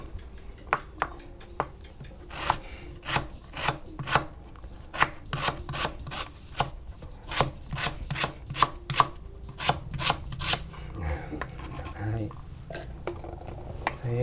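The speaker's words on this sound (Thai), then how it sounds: "นี่ครับหั่นตะไคร่ก่อน" A knife chops lemongrass on a board in a steady run of sharp, close taps that come in quick bursts, with a cook talking at times in an outdoor kitchen setting while preparing a Kalasin-style chicken curry.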